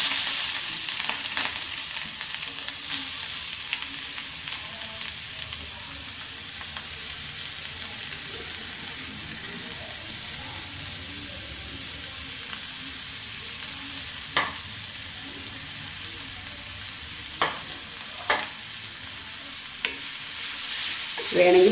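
Grated carrot stir-frying in a pan with oil and mustard seeds, giving a continuous bright sizzle over about twenty seconds, with occasional sharp pops and light stirring scrapes.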